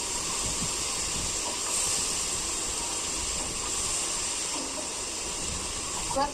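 A pressure cooker cooking broad beans with potato and tomato hisses steam in a loud, continuous, steady rush that stays close and unbroken throughout.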